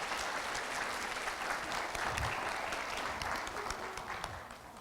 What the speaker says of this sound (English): Can we please give a round of applause to welcome Mr. Robinson?